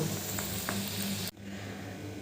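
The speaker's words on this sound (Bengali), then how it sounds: "বলগুলো এবার আমি উল্টে পাল্টে একটু লাল লাল করে ভেজে নেব" Paneer balls frying in hot oil in a kadai, a steady bubbling sizzle with a couple of faint clinks, abruptly dropping to a quieter hiss partway through.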